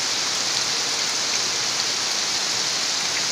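Heavy rain pours steadily outdoors during a rainstorm, a loud, dense, unbroken hiss with no voices.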